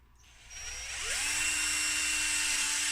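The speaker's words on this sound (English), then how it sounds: "So let's use a larger drill bit." A power drill fitted with a larger bit bores a hole during a Peltier fan build, spinning up and then holding a steady, loud high-pitched whine that lasts throughout, with no talking.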